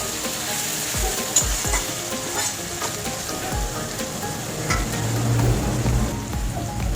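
Onions sizzle loudly in hot oil while a spoon stirs and scrapes the pan in several strokes, close up and without speech.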